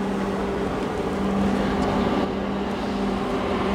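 A street washing vehicle's engine drones steadily with a low hum, mixed with broadband city street noise, as the vehicle rolls past.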